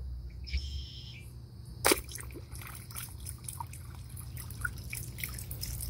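Water drips and trickles from a pond dip net, scattered small drops and splashes pattering irregularly after one sharper splash, fairly close over a low outdoor background hum.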